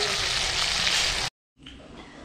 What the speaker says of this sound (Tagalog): Nagpiprito na rin ako ng bango.